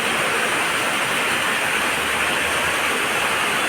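Heavy rain pours down steadily outside a home in a constant, loud hiss with no breaks and no voices.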